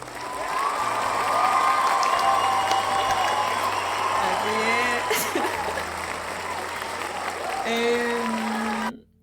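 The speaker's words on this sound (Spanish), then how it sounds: "bienvenidos los invitados, por favor, los aplausos primero" A studio audience applauds to welcome guests onto a talk show, a dense clapping wash that runs for about nine seconds with tonal music or voices layered underneath, then stops abruptly.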